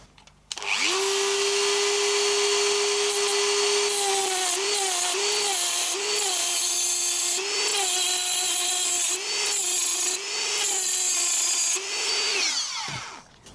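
A power cutter grinds steadily through metal for a homemade model aircraft engine, a loud continuous whine with a steady pitch that dips briefly several times under load before spinning down at the end.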